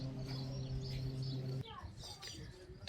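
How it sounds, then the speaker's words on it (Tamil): Sparrows chirp busily at a mountain station in Amden, Switzerland: repeated short, high tweets close by over a low mechanical hum, with people talking nearby. "பயங்கர குருவி சத்தம்"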